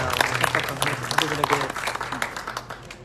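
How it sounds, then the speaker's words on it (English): Applause from an audience at a press conference for a pageant winner's homecoming at a hotel, a dense spread of clapping that holds steady for a few seconds, with voices mixed in under it. "Can we get a round of applause?"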